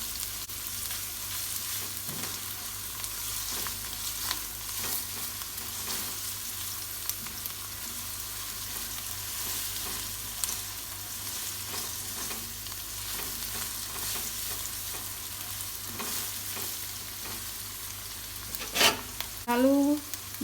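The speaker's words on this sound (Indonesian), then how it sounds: "Tumis bawang putih, bawang merah sampai layu dan matang." Garlic and shallots sizzle and fry steadily in a wok with occasional stirring scrapes, continuous and fairly close, a brief clatter near the end.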